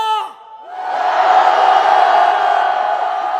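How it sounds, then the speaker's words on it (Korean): A large crowd at a political rally roars and cheers loudly in a sustained wave of shouting, rising after a brief voice at the start. "우리의 함성이 들리십니까?"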